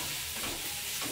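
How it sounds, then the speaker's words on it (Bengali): Ginger, garlic and onion paste frying in a pan, a brief soft sizzle with light stirring scrapes, close and fairly quiet. "আদা রসুন পেঁয়াজের কাঁচা গন্ধ চলে যাওয়ার জন্য আমি ভালো করে ফ্রাই করে নিলাম"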